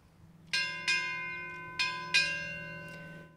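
A ship's bell at a naval change of command ceremony rings four times in two quick pairs, each strike sharp and loud with a long ringing decay, heard alone.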